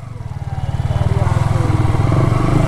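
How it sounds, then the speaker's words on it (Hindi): A motorcycle engine fires up and settles into a loud, close, pulsing idle that grows steadily louder and faster, the throbbing beat of the exhaust dominating over faint traffic. "बाइक को करते हैं स्टार्ट।"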